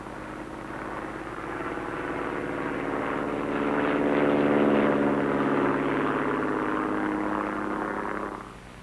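Cessna O-1 Bird Dog propeller aircraft in flight: a droning prop engine with a buzzing, pulsing tone that builds to a peak mid-way and then fades off abruptly, steady and moderately loud, with no speech.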